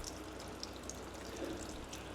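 Water pours and trickles quietly out of the sunroof drain on a W163 Mercedes ML, a faint steady splashing flow with small drips.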